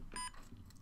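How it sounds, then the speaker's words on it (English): Ceyomur CY55 trail camera giving a short, faint electronic beep as a button is pressed, one brief tone followed by a fainter second chirp in a quiet room. "I do hate that beeping noise."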